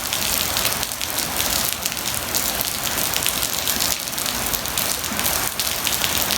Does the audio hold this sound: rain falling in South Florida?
yes